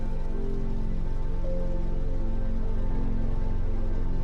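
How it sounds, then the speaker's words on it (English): Steady rain falls on a bedroom window, a continuous soft patter of drops heard alone with a low, even hum beneath and no voices. "the sound of the rain"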